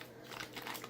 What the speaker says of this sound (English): Just peel it all open.